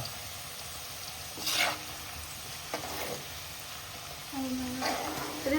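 Food frying in hot oil in a home kitchen, a steady low sizzle running throughout with a few brighter bursts of crackling and spatter as pieces go in or are moved.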